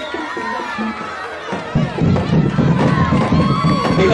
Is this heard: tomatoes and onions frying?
no